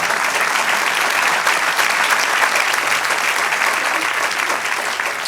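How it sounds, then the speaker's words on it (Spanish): A church congregation breaks into loud, sustained applause during a Spanish-language sermon, a dense, steady roar of many hands clapping that fades slightly at the end. "Denle un aplauso al Señor."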